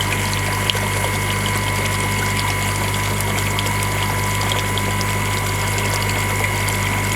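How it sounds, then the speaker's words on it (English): A koi pond air pump runs steadily with turbulent, bubbling water, a loud continuous hum and churning wash that holds even throughout, with no talking. "I will turn this air pump on"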